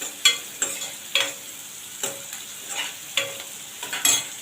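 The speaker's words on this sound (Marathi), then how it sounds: "कांदा जरा परतून घेते आधी" Onions browning in a pan while being stirred for a Konkan-style black pea sambar, with soft frying sizzle under repeated scraping stirs that come roughly every half second.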